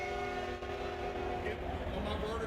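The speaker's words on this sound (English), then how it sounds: "Oh, the train's going by." A train passes close by on a railroad track in the Bartlett, Memphis area, a loud steady rumble with sustained horn-like tones throughout, and some faint voices underneath.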